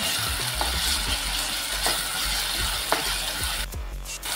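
Tomatoes with radish and dried fish sizzling and frying in a pan, a steady hiss of oil broken by occasional scrapes and taps of a stirring spoon.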